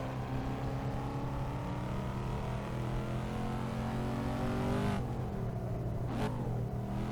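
A modded Corvette C5 Z06 in Assetto Corsa on the Nordschleife drones loudly at steady revs, then drops sharply with a downshift and a quick blip around the five- and six-second marks.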